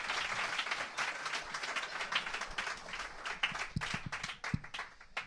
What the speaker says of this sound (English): There was some extended applause there.